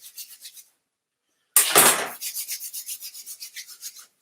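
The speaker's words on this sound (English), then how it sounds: "So I begin by just rubbing your hands together." Two palms rub briskly together up close, a dry rhythmic swishing in quick regular strokes, a short burst, a pause, then a louder scrape that settles into steady back-and-forth rubbing.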